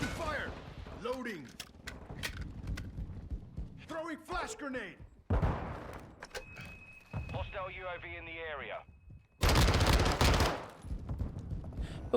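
Bursts of HK MP7 (VEL 46) submachine gun fire in Call of Duty Modern Warfare 2, short rapid volleys between stretches of game sound, with someone talking over much of it.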